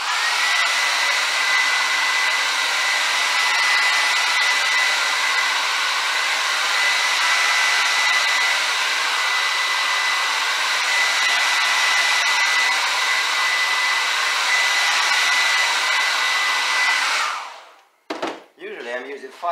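A hair dryer blows steadily and loudly for about seventeen seconds, drying the surface of a homemade pickleball paddle, then shuts off abruptly, leaving a few brief handling noises.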